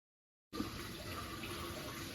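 Water drains from a koi pond, heard as a sudden start of steady, soft trickling and rushing flow that continues evenly, fairly faint, with no voices.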